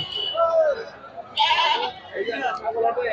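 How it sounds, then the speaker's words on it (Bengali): Native goats at a Bangladeshi livestock market bleating repeatedly up close, overlapping cries mixed with the murmur of the busy crowd. "এই দেখেন কি পরিমাণ ছাগল।"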